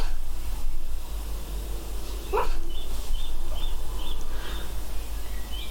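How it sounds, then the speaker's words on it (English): Paige, a dog dreaming in her sleep, lets out soft little puppy yips and whimpers, faint and sparse over a steady low room hum. "Oh, Paige is doing little puppy barks."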